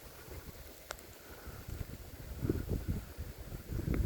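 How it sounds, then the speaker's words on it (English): Gusty wind buffets the microphone outdoors in a wooded area, a low rumbling roar that swells in stronger gusts toward the end, with no voices. "I am down here, it's windy."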